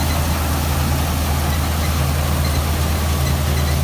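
A John Deere 5210 tractor drives a chopper in Punjab, giving a steady, loud, low engine drone with a constant hum that holds unbroken throughout.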